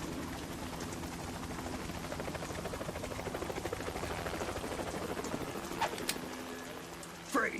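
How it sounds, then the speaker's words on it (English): A helicopter in Metal Gear Solid 2 drones steadily close by, a dense rotor chop that holds throughout, with a couple of brief sharp sounds near the end and no speech. "Probably should have waited for the helicopter to get out of the way"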